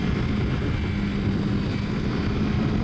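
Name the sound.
Kawasaki Versys X 300 motorcycle engine while riding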